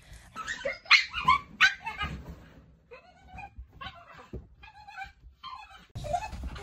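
Several dogs bark, yelp and growl in short excited bursts while romping roughly together, loud close outbursts separated by brief pauses, the yips harsh and high.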